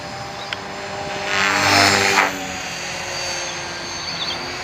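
An Align 450 Pro TT radio-controlled helicopter flying outdoors, a faint steady rotor and motor whir at mid distance that swells briefly louder as it passes closer, then settles back to a constant hum.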